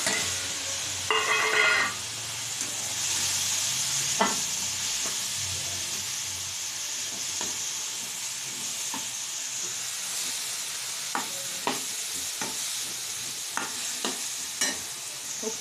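Mixed vegetables for poriyal sauté in a hot pan, a continuous loud sizzle and hiss with repeated scraping and tapping strokes from a stirring spoon throughout.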